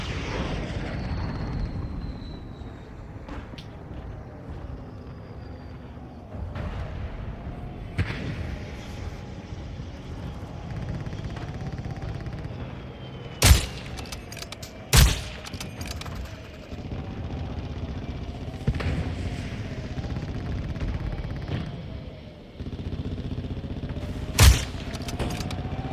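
Call of Duty Modern Warfare II gunship and VTOL attack, with a steady aircraft drone and rumbling engine noise overhead, scattered bursts of gunfire, and a few sharp, loud impacts spaced across the battle.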